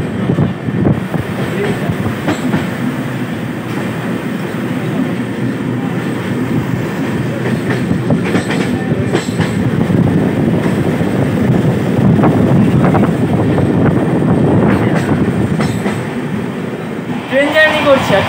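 A moving passenger train on the long Kolkata to Sairang run, near the Farakka Barrage, rumbles loudly and steadily with wind buffeting the microphone, while a voice talks over it now and then.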